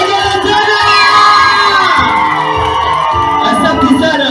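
Wedding guests ululate and cheer loudly together. High trilling calls and whoops mix with shouting voices and crowd noise all the way through.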